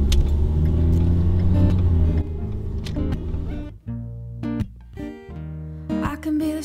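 A car driving on the road, its engine rumbling steadily and then easing into a quieter, uneven hum, close and continuous with music playing over it.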